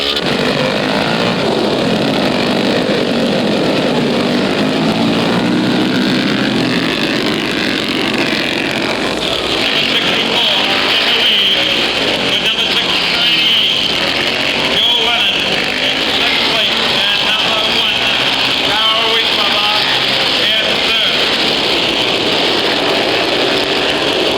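Vintage race cars roar around the track late in a long race, their engines droning loudly and continuously with passing surges, while a race commentator talks over the steady engine noise throughout.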